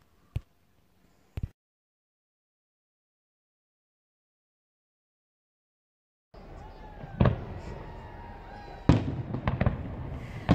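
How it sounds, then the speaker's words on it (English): A fireworks display watched from a sheltered marina behind a sea lock: a couple of isolated sharp pops, then a long silence before a steady crackling rumble with distant booming bursts rolls in. "There was a firework display on that we could watch from where we were"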